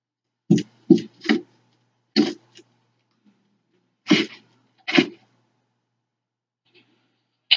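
Several short, sharp sneezes and throat-clearing bursts in a quiet room, spaced out over a few seconds, close and fairly loud with silence between them.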